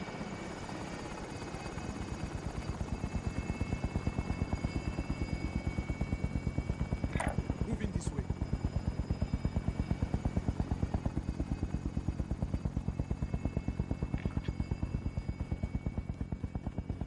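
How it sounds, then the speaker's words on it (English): An extraction helicopter in Call of Duty Warzone thumps overhead with a steady rapid rotor chop and engine drone, loud and continuous throughout, with a few faint chirps over it. "Extraction helo is exiting the AO."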